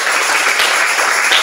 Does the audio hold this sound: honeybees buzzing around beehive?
no